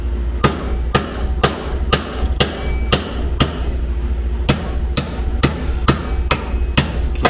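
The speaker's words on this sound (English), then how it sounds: "Just keep hammering" Hammer blows drive a pin out of a planetary gear for a 231 transfer case, about a dozen sharp metallic strikes at a steady, slightly uneven pace, loud and close with no talking.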